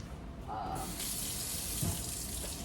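Water runs from a tap in a steady, hissing stream, close and loud, lasting a couple of seconds.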